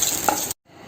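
Curry leaves fry in a hot pan for a Kerala chicken fry, giving a brief loud sizzle with a stirring scrape before the sound cuts off abruptly.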